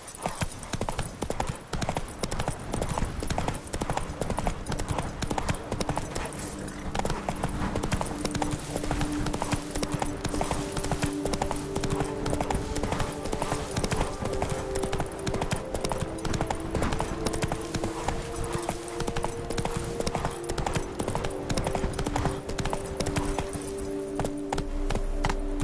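Roach the horse in The Witcher 3 gallops hard and continuously, loud drumming hoofbeats filling the whole stretch over a layer of game music, with no talk.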